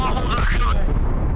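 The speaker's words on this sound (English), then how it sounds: "Mortars." Mortar shells burst in the video game Arma Reforger, a loud rumbling explosion that fills the moment and decays over about a second, with voices mixed in.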